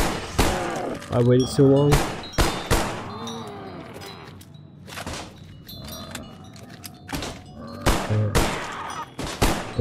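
Sharp gunshots crack out in uneven bursts and single shots in the virtual reality zombie mode of Call of Duty, loud and close, with a player's voice speaking briefly between them.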